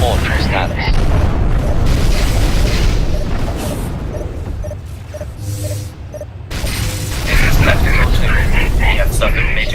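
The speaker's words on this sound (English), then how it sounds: "Detonation detected." A heavy detonation booms in a radio drama, followed by rumbling, mechanical and crashing effects, mixed with faint background speech, then a second loud burst near the end.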